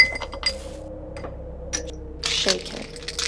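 Ice cubes drop into a glass with a few bright clinks and knocks, one cluster louder near the end, over a steady low background hum while making an iced coffee drink with brown sugar and salt.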